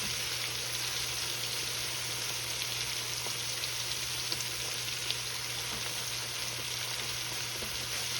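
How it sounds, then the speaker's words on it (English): Steady, dense sizzling of chicken necks frying in hot grease, a constant crackling hiss with occasional pops, no voices. "Nothing like fresh chicken frying in the grease, right?"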